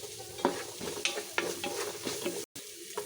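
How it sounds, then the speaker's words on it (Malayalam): Chopped shallots fry in a pan with ginger garlic paste and spices for a Kerala beef roast. A soft steady sizzle runs under repeated scraping stirs, with a brief silent gap near the end. "അതിനകത്തിലേക്ക് നമുക്ക് കുറച്ച് ചെറിയ ഉള്ളി അരിഞ്ഞിട്ട് കൊടുക്കാം."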